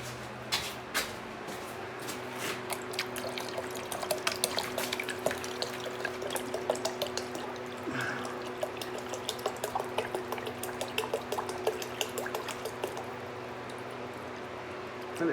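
Water is poured back into a length of 30mm pipe in a well, making a sustained trickling and gurgling pour with scattered drips and splashes, close and fairly quiet, with a low steady hum underneath.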